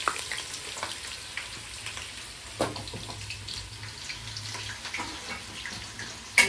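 Onions and whole spices frying slowly in a pot for chicken biryani, giving a soft steady sizzle with a few faint clinks and stirring knocks.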